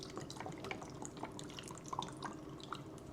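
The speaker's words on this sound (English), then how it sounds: "let's pour some of the margarita in here" Margarita poured over a glass packed with ice, a soft steady trickle with scattered drips and clinks running close and continuous for about three seconds, with no talking.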